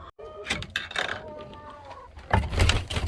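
Chickens clucking and fussing nearby, with short bursts of squawks over a busy background and a louder flurry toward the end.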